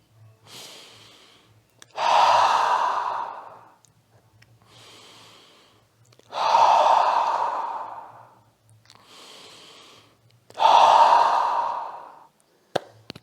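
Slow, deep relaxation breaths, close and quiet: three long, audible exhales, each a soft airy rush lasting about two seconds, separated by quieter inhales and pauses, with a faint low hum underneath.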